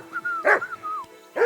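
A dog in the medieval game Kingdom Come Deliverance 2 gives two sharp, close barks about a second apart, with a thin whistling tone drifting between them.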